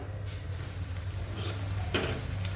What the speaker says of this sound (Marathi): बाकीचे कोफ्ते पण मी तसेच आता फ्राय करून घेणार आहे